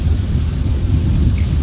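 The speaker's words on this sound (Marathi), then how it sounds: "पाऊस पडतोय मस्त." Heavy rain with rolling thunder along the Mumbai–Goa road, a loud, continuous wash of rainfall over a deep, sustained rumble.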